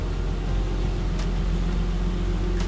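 A car that has been sitting, running on plain water with no radiator fitted, cranks and churns on its starter, a loud steady low rumble close by, with no voices.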